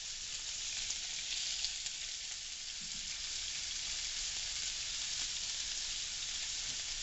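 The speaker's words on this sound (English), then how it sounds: "I've got about a tablespoon of oil in there, so that'll help it fry out." Meat frying in about a tablespoon of oil for New Mexico green chile stew gives a steady, soft, even sizzle that continues without pause and without talk.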